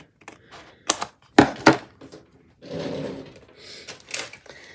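Paper being trimmed for a scrapbooking-style bullet journal page: several sharp, close clacks and thumps, then a steady rasping slide of a blade across the sheet, ending in lighter taps.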